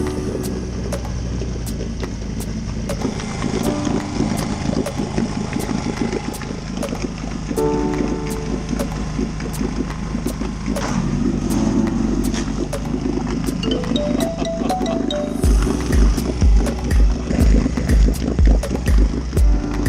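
A steady, throbbing outboard boat motor runs continuously throughout, being flushed with fresh water, with a rougher pulsing rhythm near the end, sounding close and fairly loud.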